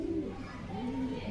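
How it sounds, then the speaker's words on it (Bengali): A pigeon coos softly nearby, low repeated throaty calls over a quiet background. "দেখেলা কবুতর ভালো করে, কবুতর চাঙ্গা আছে।"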